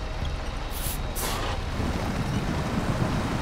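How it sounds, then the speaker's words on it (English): A heavy truck snagged on a log in SnowRunner strains and groans at low pitch, with hissing bursts over a continuous loud engine drone. "yeah, the truck does not want to break free."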